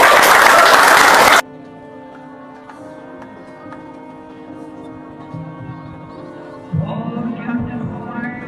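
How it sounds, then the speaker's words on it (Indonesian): Audience applause at a send-off event for footballer Marselino Ferdinan, a loud burst of clapping lasting just over a second that cuts off abruptly, followed by quieter room noise and background talk. "Oke, kita aplaus."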